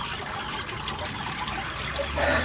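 A 21 kg carp slipping back into the water on a sunny day, heard as steady close trickling and splashing water throughout, with a slightly fuller gush near the end.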